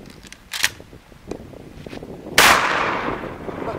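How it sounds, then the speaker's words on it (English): A shotgun slug fired into a block of snow gives one loud, sharp outdoor blast that decays into a lingering rumble, after a few smaller clicks and taps. "Let's go ahead and hit it with one last slug."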